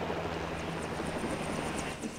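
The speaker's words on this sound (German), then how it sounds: "Da kommt ein Helikopter." A helicopter in the video game LEGO Jurassic World, a faint steady rotor drone with a low engine hum, heard alone under light game sounds.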